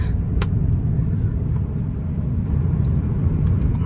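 A Tesla Cybertruck drives fast, its interior filled with a steady, loud low road rumble and wind noise, with no talk.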